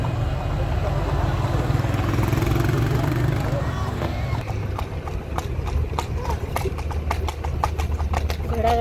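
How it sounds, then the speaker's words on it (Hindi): Horse-drawn carriage clip-clopping through Luxor's tourist market in Egypt, steady hoof beats on pavement starting mid-clip and continuing rhythmically over street noise and a rumbling engine, with people talking nearby. "घोड़ा गाड़ी इन इजिप्ट।"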